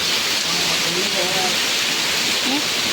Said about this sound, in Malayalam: ഒരു ചെറിയ ശക്തിയായിട്ടുള്ള മഴ